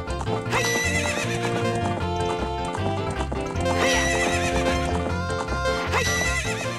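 A horse gallops and whinnies in Zelda: Ocarina of Time Master Quest on GameCube, with steady clip-clop hoofbeats and repeated neighs mixed in among the loud game music throughout.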